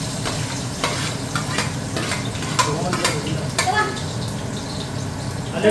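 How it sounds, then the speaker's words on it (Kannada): Onions deep fry in hot oil for a jackfruit biryani, a loud continuous bubbling sizzle with repeated stirring scrapes close by. "ಆ ಎಣ್ಣೆಗೆ ಮೊದಲು ಈರುಳ್ಳಿ ಹಾಕೊಂಡು ಡೀಪ್ ಫ್ರೈ ಮಾಡ್ಕೊಳ್ಳೋಣ"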